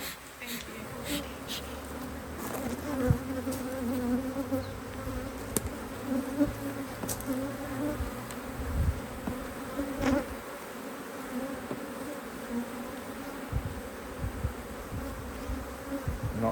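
Honey bees buzz steadily around a hive that recently swarmed, a dense continuous drone with individual bees passing close, while people talk quietly nearby.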